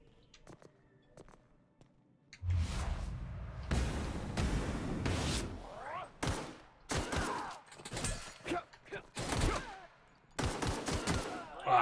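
Gunfire in the sci-fi shooter The Outer Worlds: a run of loud, sharp shots and bursts with short gaps between them, following a quieter opening.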